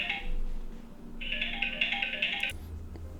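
A work phone rings with repeated electronic ringtone bursts, loud and close, two clear trilling rings separated by a short gap, with no talking over it.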